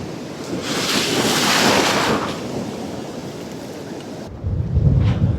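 Sea waves break on a Scottish shore during beach fishing, a close, loud wash of surf swelling and fading with wind buffeting the microphone and a fresh surge near the end.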